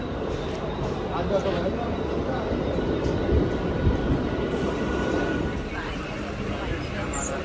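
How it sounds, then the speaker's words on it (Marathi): Steady rumble and rattle inside a moving Mumbai suburban train carriage, continuous and loud, with voices talking faintly over the noise. "ट्रेन आली, आता ट्रेनमध्ये बसू आणि मग जाऊ."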